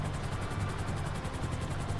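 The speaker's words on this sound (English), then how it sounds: "fly your helicopter into here and try to land it smoothly" A helicopter in GTA Online comes in to land, its rotor a steady, close, loud thrum with a broad rushing wash and a pulsing low beat throughout.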